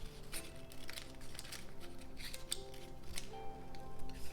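Close scissors cut through a paper Möbius strip with repeated snipping strokes. The crunchy blade sounds keep a loose steady rhythm over a faint room hum, and nobody talks.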